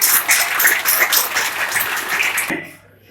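An audience in Jaipur bursts into vigorous clapping, a dense, loud wash of many hands that holds steady and then cuts off near the end.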